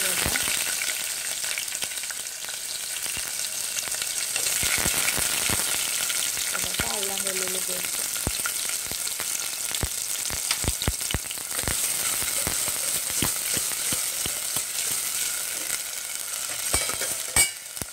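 Cumin seeds and green chillies frying in oil for bitter gourd pulusu, a continuous close sizzle with frequent crackles and spatters, a brief tonal clatter midway, no talking.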